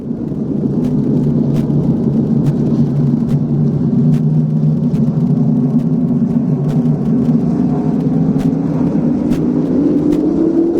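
Race cars roar together at a Saturday night short-track race as green-flag racing begins, a loud, dense engine drone that holds steady and climbs slightly in pitch toward the end, with no voices.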